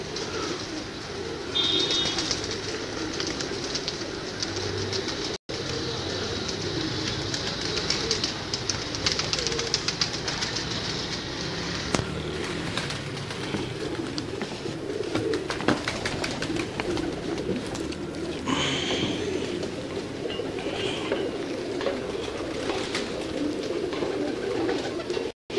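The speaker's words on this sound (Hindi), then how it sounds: "ये कुछ बैठते हुए कबूतर आपको दिखा रहे हैं" Pigeons settling on a large rooftop, with steady cooing and bird calls over a constant outdoor background that runs the whole time.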